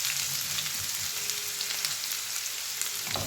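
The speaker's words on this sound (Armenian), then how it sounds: "Թող մի հատ տապակվի" Chopped onion sizzles in a hot pan, a steady bright crackle with occasional spits and a few soft stirring knocks, close and continuous, no voices.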